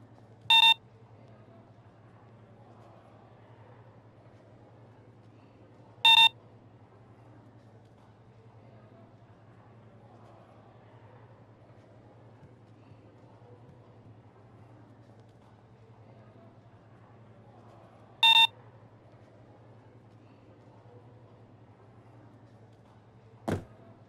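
Keypad code entry beeps ring out at a bank vault gate in the stealth heist game Payday 2, three sharp electronic beeps spaced several seconds apart over a low steady hum.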